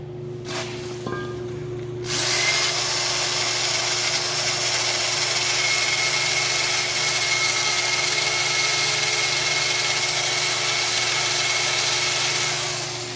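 A power tool sands the front brake hardware of a 2015 Jeep Patriot, with a loud, continuous whirring grind that runs steadily for over ten seconds after a brief quieter start, close up and with no talking.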